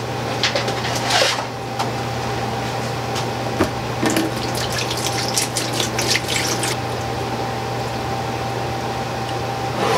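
Water pours steadily into a hydroponic container, a continuous gentle splashing and trickling fill with a few brief clunks and rustles, close and unaccompanied by talk.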